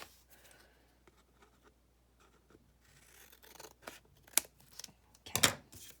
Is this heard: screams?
no